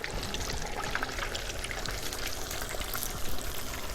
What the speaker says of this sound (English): I'm just gonna let it drip, let as much of that oil out as I can.